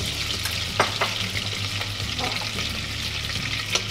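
Two generous spoonfuls of butter melt in a hot pan with a steady close sizzle and bubbling, broken by a few sharp utensil clinks and scrapes, no voices.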